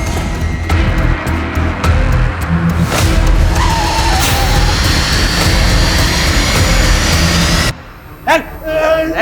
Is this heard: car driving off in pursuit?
yes